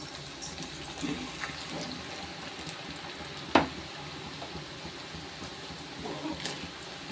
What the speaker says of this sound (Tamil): எண்ணெய் காஞ்சிருச்சு இப்போ வந்து நம்ம ஊற்றி கொடுக்குறோம்